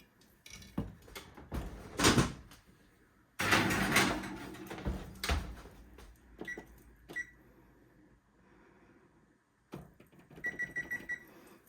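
A cake pan for pineapple upside down cake goes into an oven, with sharp metallic clanks, rattles and thumps and a door shutting, then a few quick electronic beeps from the oven controls near the end.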